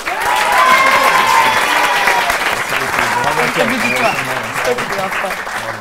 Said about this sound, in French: On applaudit Benjamin et Mao.